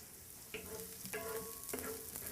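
Shallots sizzle in a frying pan, a steady close crackling hiss punctuated by a few brief clinks or stirs of a utensil.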